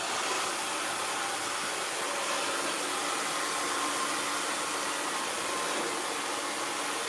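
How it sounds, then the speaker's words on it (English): A blow dryer runs continuously on hair, a steady, loud, broadband whoosh that holds unbroken from start to finish with no one speaking. "the blow dryer is a very important factor in this"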